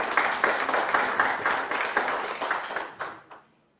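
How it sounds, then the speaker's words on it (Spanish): An academic audience at a conference panel applauds, a modest crowd of clappers with a loose, uneven rhythm that thins and fades out near the end. "Un aplauso, por favor."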